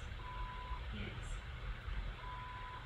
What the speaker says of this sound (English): Did it really just beep at me?